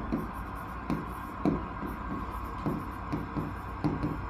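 Marker or chalk taps and strokes on a board during a matrix lesson in an engineering maths class, a series of soft, irregular clicks close by over a low room hum.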